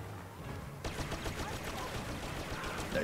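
Rapid hip-fire blaster shots from Star Wars Battlefront gameplay crackle in a dense, steady volley of sharp bursts, moderately loud and continuous throughout.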